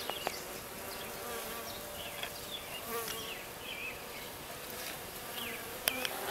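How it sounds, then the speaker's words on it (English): Dense, continuous buzzing of many honey bees swarming around a cluster of workers on a virgin queen, close and steady with occasional individual wingbeat whines passing nearby. "these are all the bees that aren't able to get into the cage of the queen"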